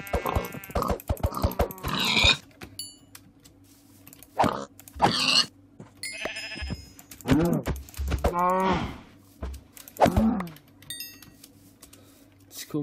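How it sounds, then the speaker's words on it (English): Cows in the Minecraft video game moo several times over about thirteen seconds, their drawn-out calls close and fairly loud, mixed with sharp clicks and grunting game sounds. "Kill the cows, get the pig as well."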